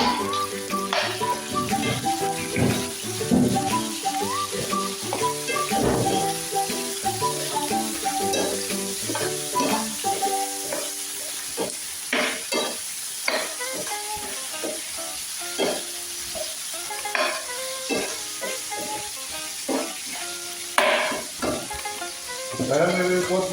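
Chicken adobo frying in a pan with steady, loud sizzling and crackling throughout, broken by repeated scraping and clinking as it is stirred.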